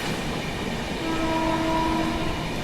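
The Shiv Ganga Superfast Express rumbles along steadily as it overtakes the Sabarmati Express. A dense roar of wheels and carriages fills the whole stretch, and faint tonal horn notes rise in the middle. Nobody talks.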